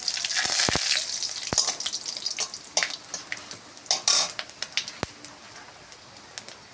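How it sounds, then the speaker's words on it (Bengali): Dried red chillies and panch phoron sputter in hot oil in a kadai, sharp crackles and pops over a low sizzle, busiest early on, then thinning into scattered snaps. "কড়াই গরম হয়ে গেছে চচ্চড়িতে ফোড়ন দেব শুকনো লঙ্কা আর পাঁচ ফোড়ন"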